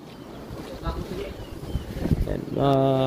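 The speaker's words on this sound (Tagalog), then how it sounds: "Grabe, lakas ng hangin dito." Gusty wind buffets and rumbles close to the microphone in heavy rain, and a person starts speaking over it near the end.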